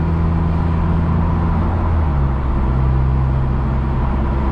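Honda Civic Si with a Fullrace downpipe and exhaust cruising in sixth gear at low revs on a highway, giving a steady, loud, even engine and road drone with no breaks and no talking.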